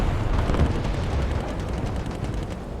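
Tank cannon fire from a tank video game, a blind shot striking the top of a T-34: a dense, rumbling blast with crackling debris that rolls on steadily for a few seconds.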